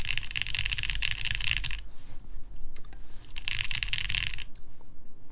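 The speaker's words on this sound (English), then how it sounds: "Can you describe the sound of this keyboard using adjectives only used for food?" Typing on a raw aluminum Machina Orbit mechanical keyboard: two bursts of rapid, crisp keystrokes recorded up close, separated by a short lull with a few isolated clicks.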